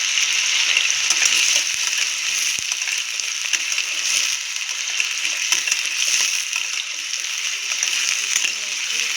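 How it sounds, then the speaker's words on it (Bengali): Potatoes fry in oil in a pan, making a loud, continuous hiss close by with fine crackling spread evenly throughout. "আলুটা ভালো করে ভেজে নেবো, সিদ্ধটা বেশি করতে হবে না।"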